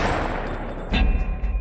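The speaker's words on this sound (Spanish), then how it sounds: "Eran disparos." Gunfire rings out during the JFK assassination in Dallas: after a stretch of steady noisy hiss, a sharp, heavy report bursts in, followed by a few rough, echoing thumps.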